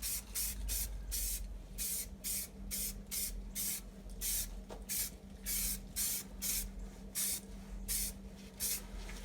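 Primer is sprayed from an aerosol can onto the air cleaner lid of a 1992 GMC OBS truck. Close, light hissing bursts repeat in quick succession over a low background hum.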